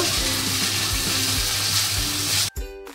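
Spiced paste with Kashmiri chilli powder sizzles steadily in hot oil in a pan while it is stirred, giving a close, constant fry with a spoon scrape near the end.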